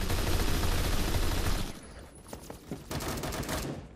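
HK21 machine gun firing in a first-person shooter video game, a loud sustained burst of rapid automatic fire that cuts off partway, followed by a few scattered shots and distant pops.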